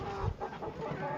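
Four-month-old chickens cluck on a poultry farm, a quiet short burst of low clucking heard close up.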